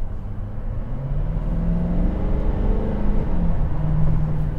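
A 2018 Chevrolet Silverado 2500HD diesel pickup accelerating, a loud, steady low rumble and drone heard from inside the cab that builds gradually, with no talking.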